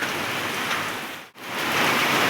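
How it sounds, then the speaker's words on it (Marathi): Light rain falls in a continuous, even hiss, close and fairly loud, with one split-second dip near the middle and no voices. "आता थोडा थोडा पाऊस चालू आहे"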